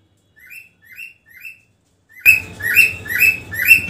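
Pet budgies and cockatiels chirp in a repeated pattern, three spaced tweets first, then a burst of louder, busier chirping over background rustle, close and lively.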